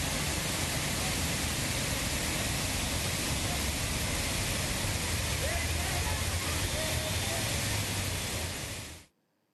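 Lake water pouring over a weir at Kamatghar after heavy rain, a constant loud broadband rush of falling water that cuts off abruptly at the end.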